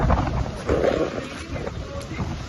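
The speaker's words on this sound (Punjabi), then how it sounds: "ਇੰਨੀ ਜ਼ਬਰਦਸਤ ਨੇਰੀ ਆ" A strong windstorm roars in continuous gusts that buffet the microphone with a heavy, low rumble.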